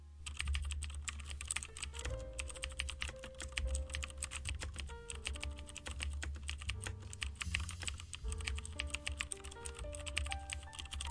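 Steady, fast typing on a computer keyboard as code is entered, with close, crisp key clicks that run continuously at a quiet level with no voice.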